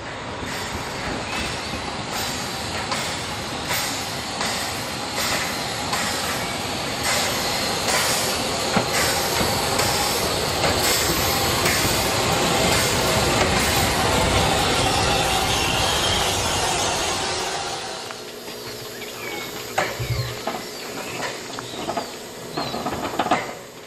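A steam train on the Brocken line in the Harz mountains rumbles and hisses loudly for most of the stretch, with clattering wheels, before the noise drops away to a quieter chugging.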